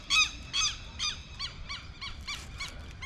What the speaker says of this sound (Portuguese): os gansos são aqueles cinzas ali